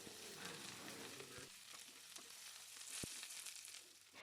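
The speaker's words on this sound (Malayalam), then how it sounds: "ഉണക്കമുളകും പിന്നെ കുറച്ച് വേപ്പിലയും കൂടി ഇട്ടിട്ട് ഇതൊക്കെ നല്ല പോലെ മൂത്ത് വരുന്ന വരെ ഒന്ന് ഇളക്കി കൊടുക്കുകയാണ്" Dried red chillies and curry leaves frying in oil as tempering for a tapioca curry, a steady close sizzle with scraping stir strokes and a sharp clack near the end, no talk.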